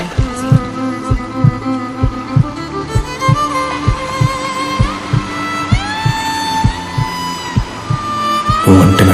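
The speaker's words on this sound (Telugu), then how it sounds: "Listen to my heart beat." A dramatic heartbeat effect from a Telugu romantic movie scene: regular, deep thumping pulses repeat steadily beneath sustained musical tones and rising synth swells, loud and close, without speech.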